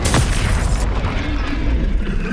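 A fire spell cast in Hogwarts Legacy on PS5 bursts out as a loud, close whoosh and roaring boom at the start, then settles into a dense, rumbling burn that carries on to the end.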